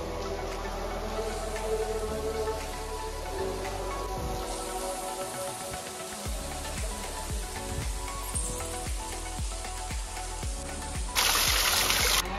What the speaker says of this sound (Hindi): वाटरफॉल से आने वाला पानी सीधा यहाँ पे आता है